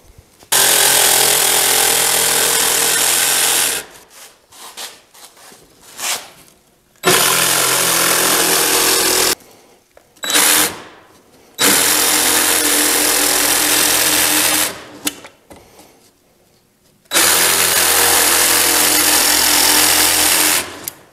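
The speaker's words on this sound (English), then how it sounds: "I'll just lay that out where I want the mortises, and then I'll cut it out with a jigsaw" A jigsaw cuts mortises into wooden shelf legs, roaring loud and close in three long bursts, with short revving spurts and quiet pauses between cuts.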